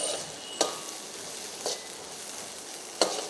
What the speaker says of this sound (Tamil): நன்றாக தக்காளி வதக்க வேண்டும்